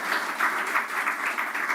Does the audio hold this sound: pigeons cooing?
no